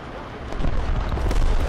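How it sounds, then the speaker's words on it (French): Cannon fire in the War Thunder tank game, a loud broad booming blast with rumbling low end that swells and holds, followed by noisy battlefield roar. "là-bas il y a un départ de tir sur la droite"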